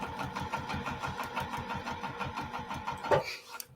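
A sewing machine stitches through soft vinyl for an iPad case, making a fast, even rhythmic chatter that runs close and steady for a few seconds before stopping abruptly.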